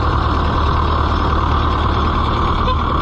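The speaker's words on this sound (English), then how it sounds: "Whoop, I hit the horn." An Oliver 1365 tractor's horn sounds as one loud, sustained tone over the rumble of the running engine, holding steady for about three seconds.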